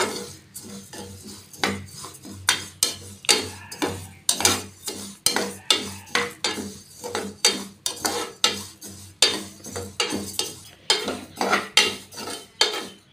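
A metal spoon repeatedly scrapes and rattles dry moong dal around a pressure cooker as it is dry-fried, in a steady, rhythmic series of close, sharp stirring strokes with no voices.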